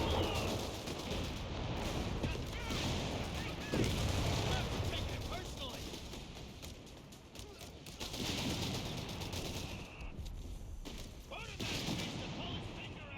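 Rifle gunfire from a World War II strategy game battle in Operation Torch, a rifleman squad opening fire amid a big battle, with repeated sharp shots and distant booms over continuous dense combat noise.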